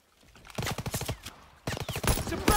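Call of Duty: WWII machine gun fire in rapid bursts, loud and close, two volleys of quick rhythmic shots separated by a short pause.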